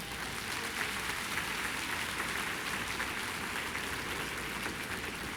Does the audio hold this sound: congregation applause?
yes